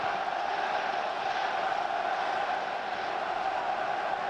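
Football stadium crowd at Sunderland AFC versus West Bromwich Albion, a steady, distant roar of many voices holding at an even level throughout, with no single sound standing out.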